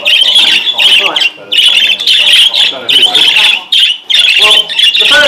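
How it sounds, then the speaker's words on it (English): Budgerigars at a bird show chatter and squawk loudly and continuously in close, repeated bursts, with a voice occasionally mixed in beneath the birds. "Well, the bird in first place is my bird, Cobalt."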